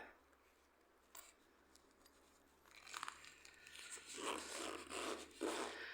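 A first aid kit pouch being unzipped by hand: a quiet start with a soft tick, then a close, rough, scratchy zipper rasp that builds and continues in short bursts.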